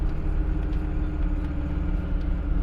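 VW Squareback engine held at full throttle while climbing, a steady low droning rumble with road noise inside the cabin, continuous and fairly loud, with no talking.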